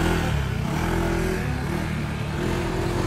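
A Honda Click 125 scooter with a 160cc engine and CVT setup being tested, its motor droning loudly and steadily at close range with a sustained rev for a few seconds.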